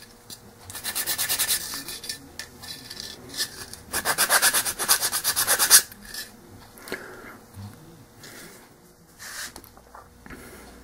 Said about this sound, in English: After I sand these hinges up